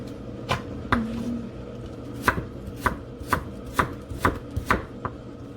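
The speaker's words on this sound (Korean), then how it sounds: "썰어서 채를 썰어 볼게요." A knife cuts vegetables into thin julienne strips on a cutting board, giving about ten crisp, evenly spaced chops heard up close with no talking.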